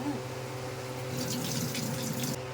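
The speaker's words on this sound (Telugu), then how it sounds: "ఈ ఎండు రొయ్యలు అనమాట మళ్ళీ ఇంకోసారి కడుక్కుందాం" Tap water runs steadily as dried shrimp are rinsed in a sink, a continuous close splashing wash with a brighter burst of spatter partway through.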